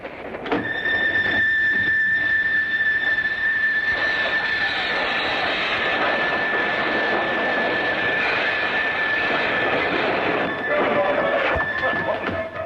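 Steady rumble of a train rolling along the rails, with a sustained high squeal and occasional clatter throughout, loud and close.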